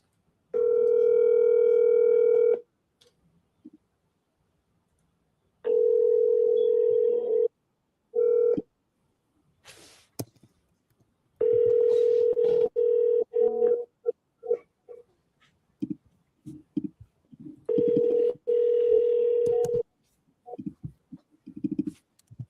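A phone call to a home seller rings out: a steady tone pulses in four long repeated bursts with quiet gaps and a few faint clicks between, alone and fairly clear.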